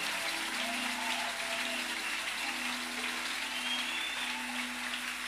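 A church crowd at a fervent prayer service claps and acclaims, a continuous, fairly distant roar of hands and voices sustained at an even level, with faint tonal voices or music humming underneath.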